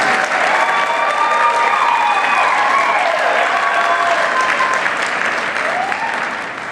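An audience at a scholar-athlete award event claps steadily with dense, sustained applause, and some cheering and voices mix in before it begins to fade at the end.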